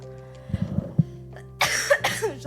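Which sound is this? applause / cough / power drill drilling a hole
cough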